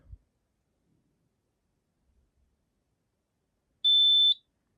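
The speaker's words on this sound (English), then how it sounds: "So the machine beeped and the ready light came back on." A single electronic beep from a Brother knitting machine after saving, clear and fairly loud, sounds near the end after a few seconds of near silence broken by faint soft knocks.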